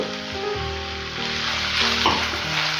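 Onion chili paste being stirred into an ivy gourd curry in a pan, with a steady sizzle and soft scraping of a spoon through the mixture, heard close and alone without talk.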